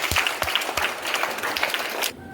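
Loud, enthusiastic applause from a school audience at a Hindi Day celebration, dense overlapping claps that cut off abruptly near the end.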